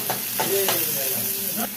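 Chopped onions sauté in a pan for a capsicum masala curry, giving a steady, close sizzle with a few stirring scrapes of a spoon, and no talking.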